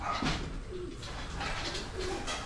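Pigeons coo softly and repeatedly in a loft with nests, low rolling calls overlapping against a steady background hum.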